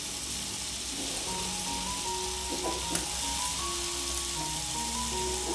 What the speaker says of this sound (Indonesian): Pokoknya kita bolak-balik seperti ini sampai ayamnya benar-benar matang ya.